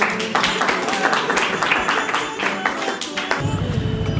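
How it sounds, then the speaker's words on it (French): A crowd of fans outdoors, heading to a concert at the Zénith de Paris, claps in a brisk, uneven burst of hand slaps that fades out near the end. "Est-ce qu'on peut s'applaudir d'être là pour lui?"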